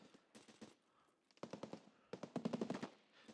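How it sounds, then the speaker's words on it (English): Far-off bursts of automatic gunfire in the video game Escape from Tarkov crackle in rapid strings, faint and muffled, with a short lull between volleys and a denser burst toward the end. "we hear a lot of gunfire in the distance"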